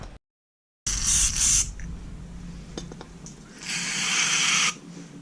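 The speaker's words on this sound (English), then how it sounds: "we're just going to squirt some cleaner down through and hope it comes out" Carburettor cleaner sprayed from an aerosol into the carburettor of a vintage Ferguson tractor during a service: two sustained bright hissing bursts separated by a pause and faint clicks, close and fairly loud.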